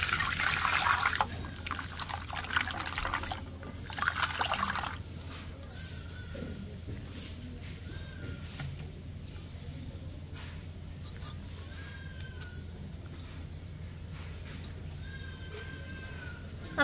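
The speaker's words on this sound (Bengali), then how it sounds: "এবার আমি ভালো করে জল দিয়ে ধুয়ে নেব।" Grated potatoes are rinsed with water in a kitchen for Bengali potato payes: splashing and trickling at the start gives way to quieter dribbling, with a low steady hum underneath.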